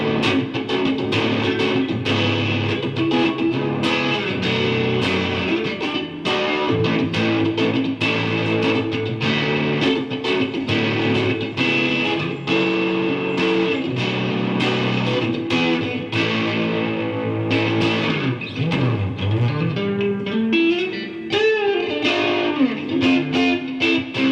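An electric guitar, a copy of a Fender Telecaster Thinline, with a light, gritty overdrive plays chords and melodic runs continuously, loud and close, with no voices.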